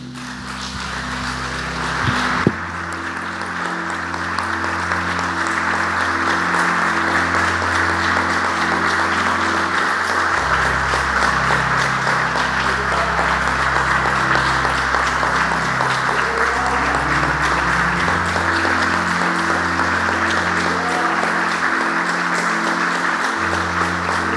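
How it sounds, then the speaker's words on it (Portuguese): Sustained applause fills a church congregation, steady and dense throughout, with an organ or keyboard sustaining low chords underneath after a brief pause near the start. "Você pode dar uma salva de palmas a Jesus?"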